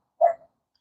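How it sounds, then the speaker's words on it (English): A neighbor's dog gives a single short bark, heard from a distance in an otherwise quiet room. "that's my neighbor's dog barking"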